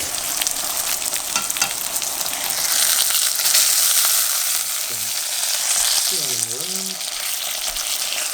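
A thin pangasius fish fillet sizzles steadily as it pan-fries in hot oil, a loud, continuous crackle with a few brief clinks near the end.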